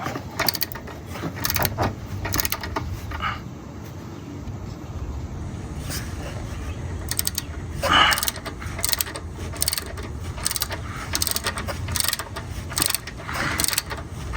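A ratchet wrench tightening engine bolts on a 4.6L Mercury Grand Marquis intake manifold job, with intermittent close clicking bursts over a low background rumble, mostly without talk.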